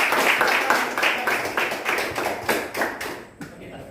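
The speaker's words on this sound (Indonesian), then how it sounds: "Oke, tepuk tangan dulu untuk kelompok" A mathematics class claps for a presenting student group, a brisk, fairly close patter of hands that fades out and leaves only scattered claps near the end.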